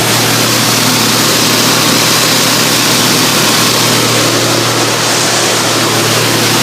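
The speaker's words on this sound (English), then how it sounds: "The idle's a little high." A 1965 Mustang's 289 V8 with a newly installed carburetor idles steadily and a bit high, a loud, continuous low rumble with an even hum running the whole time and no voices.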